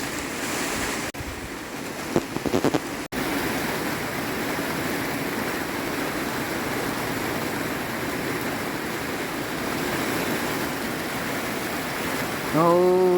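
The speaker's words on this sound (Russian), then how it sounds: "Ой, какой ливень." Heavy summer rain downpour driven by wind over a garden, a dense continuous roar of falling water with gusty hiss, steady and loud, with a few brief handling knocks near the start.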